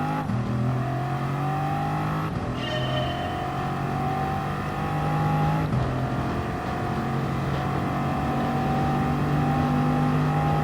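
A Norfolk Southern-liveried Bugatti drives in the Route X racing game, its loud, steady engine note climbing in pitch and dropping at two gear shifts as it accelerates continuously, with no talk.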